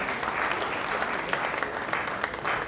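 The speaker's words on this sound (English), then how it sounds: "A big applause for Dr. Kamal Jain." Audience applause at an anniversary award event, dense sustained clapping from a large crowd filling the space for the whole moment.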